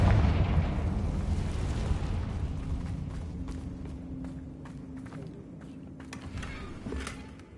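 A Confringo fire spell bursts in Hogwarts Legacy, a loud explosive boom at the start that decays into a long rumbling tail with scattered crackles and debris, fading over several seconds.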